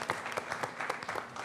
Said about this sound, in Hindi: साहिबजादा फरहान पाकिस्तान से तो हमें तालियां मारनी चाहिए बिल्कुल